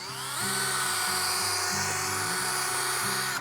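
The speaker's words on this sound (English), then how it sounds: "As long as you're moving that roto brush up and down that leg, you're going to be fine." A Weaver Livestock roto brush runs continuously on an animal's leg, a steady loud motor whine with shifting lower tones as the brush moves up and down, no talking.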